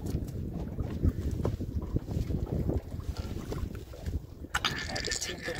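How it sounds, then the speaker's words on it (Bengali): Strong wind buffets the microphone on a boat out on the Bidyadhari river in the Sundarbans during a fishing trip, a steady low rumble and gusting roar that continues throughout, with faint voices underneath. "কিন্তু ভালোই হাওয়া হচ্ছে"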